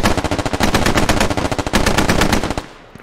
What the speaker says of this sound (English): Technical is directly shooting.